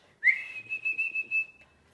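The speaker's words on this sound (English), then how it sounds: "The boy whistles to Patch." A boy gives one clear whistle to a sheepdog: a sharp rising onset that settles into a sustained, slightly wavering note lasting about a second and a half.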